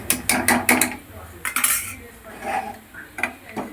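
Mutton biryani is spooned onto a plate, with a run of metal clinks and scrapes against the dish early on, then more spaced clatters and a few light taps toward the end.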